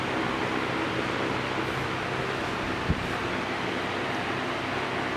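A Vanco 18-inch industrial wall fan running on its lowest setting gives a steady, loud, broadband whoosh of moving air with no pauses, and one faint click partway through.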